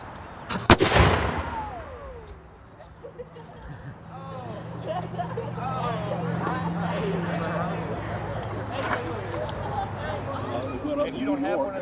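An artillery cannon fires once with a single loud, close boom, and its rumble fades into a crowd murmuring and talking.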